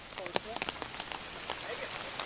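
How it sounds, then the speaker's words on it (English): Rain falling and pattering on surfaces outdoors during a disc golf tournament round, a steady wash of drops with scattered closer taps, with faint voices briefly audible underneath. "You finally decided it is raining."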